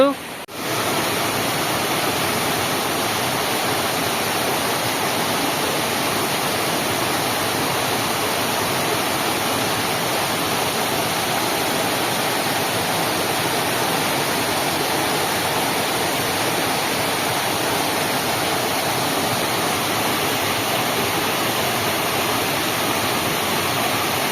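Waterfall near a rural ashram in Odisha: a constant, dense rushing of falling water, steady and fairly loud, with no break across the whole stretch.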